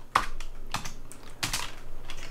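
A computer keyboard is used to type a command into a Raspberry Pi console, giving a few sparse, crisp key clicks and taps up close in a quiet room with no talking.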